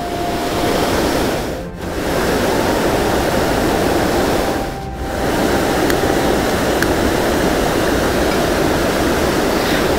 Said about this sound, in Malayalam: ഒരു രക്ഷയില്ലാത്ത സൗണ്ടാണ് വെള്ളത്തിൻ്റെ